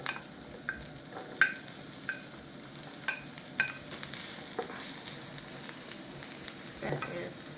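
Thinly chopped onion sautéing in a pan: a soft, steady sizzle broken by light scrapes and taps from a utensil stirring, quiet and close, with no one speaking.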